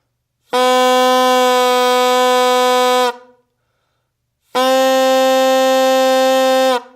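Two long, steady buzzing reed tones, each held for a few seconds with a short silence between, loud and close with no voices.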